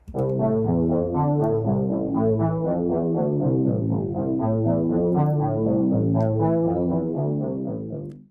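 A dark, buzzy vintage analog synthesizer plays a steady repeating arpeggio pattern, full and continuous throughout before cutting off at the end.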